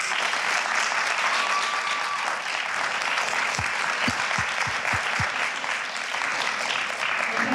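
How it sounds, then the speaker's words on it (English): Sustained applause from a university student government debate audience fills the whole stretch, dense and steady, with a few low thumps near the middle. "I would like to ask the audience to give a round of applause for"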